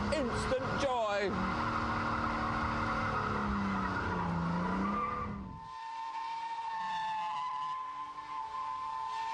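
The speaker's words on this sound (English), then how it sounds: "First gear, loads of lock-on, loads of revs, and dump the clutch. And round it goes, instant donuts, instant joy." A BMW Z3 M Roadster spins donuts on tarmac, with a loud revving engine and a long, wavering tire squeal for about five seconds. The squeal then cuts off, leaving a steady lower engine drone and someone talking over it.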